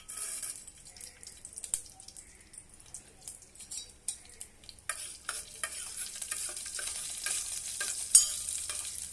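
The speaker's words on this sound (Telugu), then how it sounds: "ఆవాలు, జీలకర్ర తాలింపు పెట్టుకోవాలి." Mustard seeds and cumin sizzle in hot oil in a pan for a tempering, with soft crackles and stirring taps that grow busier toward the end, close and fairly quiet, no voices.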